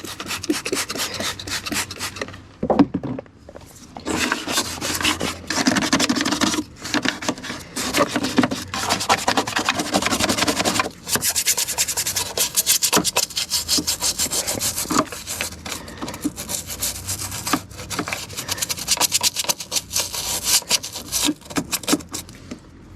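Stiff detailing brushes scrub built-up grime off the front suspension of a Corvette, giving close, loud, rapid rasping strokes in uneven bursts with a few short pauses.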